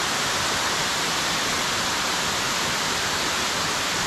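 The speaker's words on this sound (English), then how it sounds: "Just water that flow off of the rock." Steady, dense rush of a waterfall pouring off rock in Jamaica, a close and loud broadband roar that holds constant throughout with no voices.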